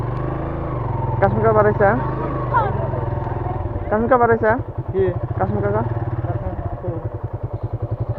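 A motorcycle engine putters steadily at low speed close by, its rhythmic thrum running under people talking.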